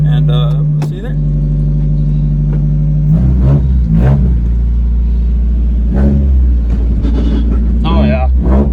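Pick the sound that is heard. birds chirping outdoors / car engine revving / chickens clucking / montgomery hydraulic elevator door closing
car engine revving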